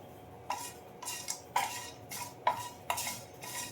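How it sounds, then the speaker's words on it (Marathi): Tea masala spices dry-roasting in a pan and being stirred, giving a series of sharp scraping clinks roughly every half second to second, close and fairly quiet, with no talking. "आता मी हे भाजायला घेते हे सगळं साहित्य आपल्याला आता हे भाजून घ्यायचं आहे"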